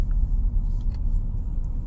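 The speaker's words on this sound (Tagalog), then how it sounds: "Traffic. It's a traffic here." Low, even rumble of San Francisco street traffic, a constant engine drone close by for a couple of seconds.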